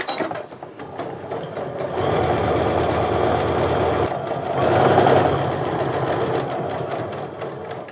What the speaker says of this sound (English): I'm going to go ahead and reinforce those stitches a little bit at the beginning and end